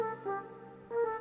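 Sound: flute sample from Nexus plugin in FL Studio

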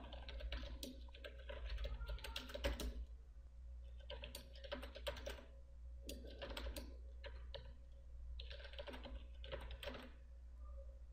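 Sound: typing a command on a computer keyboard

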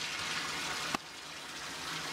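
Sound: warm water filling baby bathtub in shower

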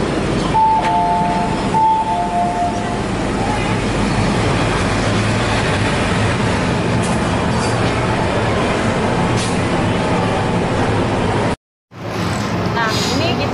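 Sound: subway train interior

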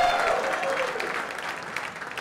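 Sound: audience clapping at a startup event

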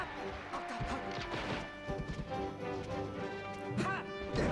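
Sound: up smash attacks hitting in video game Super Smash Bros. Melee

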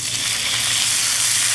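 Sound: artichokes sizzling in oil in a pan

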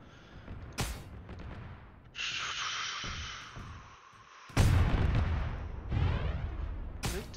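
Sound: smoke rounds landing, from a video game

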